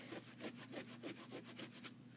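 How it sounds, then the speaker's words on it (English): Repeated scrubbing of tissue paper over an art journal page with spray inks, a rhythmic back-and-forth rubbing at a steady pace, close and fairly soft, with no talking. "That's a lot of scrubbing here."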